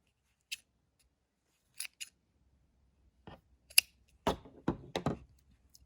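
Scissors snip through the last knitted loops of an owl-shaped tablet case, a few short, crisp cuts spaced apart and then a quicker cluster, close and quiet with no talking.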